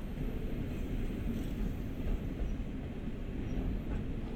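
A BR 143 electric locomotive running in Train Sim World on the Siegen to Hagen line, a steady low rumble of wheels and motor at constant speed with no breaks.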